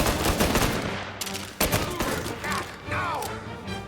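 A shootout in the video game Mafia Definitive Edition fills the scene with dense, loud bursts of rapid gunfire and sharp single shots, with impact cracks and ricochet whines layered over a busy background.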